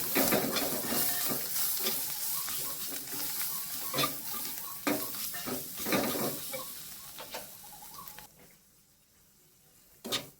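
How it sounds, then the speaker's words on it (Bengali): Chili powder spice mix is stirred in a frying pan, the spoon scraping and tapping over a steady oily sizzle and hiss, close and continuous before easing off toward the end. "মশলাটা আর একটু নেড়ে চেড়ে আমি কাঁঠালের দানাগুলো দিয়ে দেবো"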